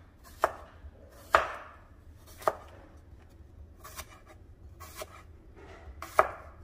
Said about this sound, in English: because this is going into a small bento box, I'm going to cut them thin and just round